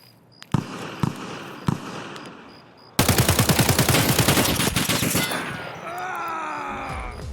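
In an Escape from Tarkov raid, a few sharp separate gunshots ring out first, then a long rapid automatic burst of loud, evenly spaced shots sprays out, fading into ringing echoes at the end.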